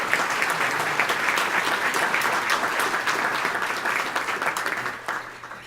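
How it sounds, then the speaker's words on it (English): Audience applauding the staff of NOACA at its 50th-anniversary event, a steady dense wash of many hands clapping that holds strong and then thins and tapers off near the end. "Let's give them a round of applause."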